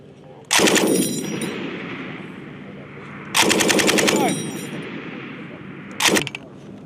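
U.S. Marines of the 3d Marine Division firing a machine gun on a range at Ojojihara, Japan: three loud, close bursts of rapid automatic fire, two long and one short, each followed by a rolling echo.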